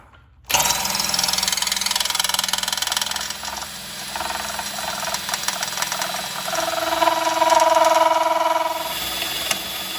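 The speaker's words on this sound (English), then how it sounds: "So I take an 1/8 of an inch drill bit to drill them out." A steady, loud power drill whine runs continuously, shifting pitch as a 1/8-inch bit drills out metal rivets during radiator replacement on a Fiat 500 Abarth, with a grinding, vibrating tone throughout.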